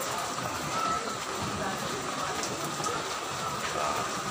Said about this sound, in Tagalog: Sa ilalim ng ulan.